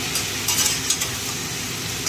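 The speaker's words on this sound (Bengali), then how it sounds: "একটু ভাজা ভাজা করে নেবো।" Pumpkin greens frying in a pan give off a continuous close sizzle, while a utensil stirs them in a few light scraping strokes.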